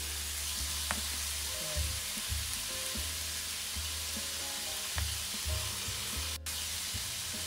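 Seasoned food with salt, pepper and MSG stirred in a frying pan at home, a steady close sizzle with soft scraping strokes and occasional light taps of the utensil against the pan.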